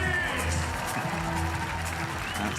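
A crowd applauds and cheers for climber Kokoro Fujii at the Innsbruck 2022 men's boulder final, a steady, dense roar of clapping filling the arena throughout, with voices mixed in.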